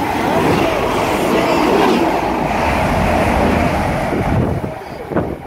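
Two coupled British Rail Class 185 diesel units roll through Leyland station with a loud, steady rumble and wheel roar, heavy wind buffeting the microphone, and the sound easing off as the train passes.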